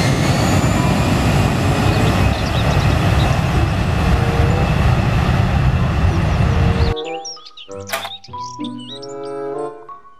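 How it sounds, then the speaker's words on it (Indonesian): A toy airplane gives a loud continuous whirring engine roar for about seven seconds, then stops sharply and gives way to a short bright electronic jingle. "pesawat terbang."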